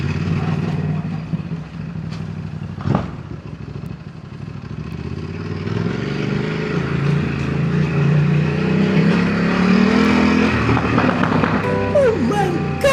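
A motorcycle accelerating during a large group ride of over 200 bikes, its engine rising steadily in pitch and loudness as it pulls away, with other machines and wind around it.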